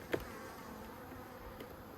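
Honeybees hum steadily in a small nucleus hive opened for inspection, a close and fairly quiet drone with a brief louder buzz near the start, and no one speaking.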